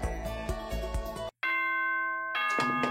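A school announcement chime rings out in clear bell-like tones, a short rhythmic run of struck notes, a brief gap, then a long sustained ringing chord that fades before more tones return.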